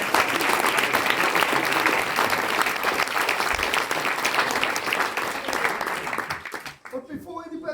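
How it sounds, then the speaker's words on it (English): Audience applause at a Maori village cultural performance in Rotorua, a dense sustained burst of many hands clapping with crowd noise, loud and close, then cutting off abruptly near the end as a voice begins. "Round of applause for my brothers in the group."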